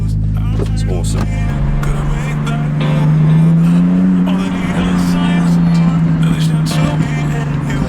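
A BMW Z4 engine cranks and catches, then settles into a loud, steady, rumbling idle close by, with a slight rise in pitch partway through as it runs continuously.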